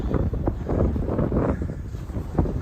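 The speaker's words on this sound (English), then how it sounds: "Now the wind is directly in my face." Cold winter wind, with a minus 30 wind chill on a Christmas Eve walk in Regina, buffets the microphone as a steady, loud, low roar with gusty swells throughout.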